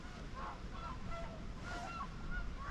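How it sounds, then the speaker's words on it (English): Swans flying overhead near Welney in Norfolk give repeated faint honking calls from a distance, over wind and outdoor background noise. "A lot of swans coming over."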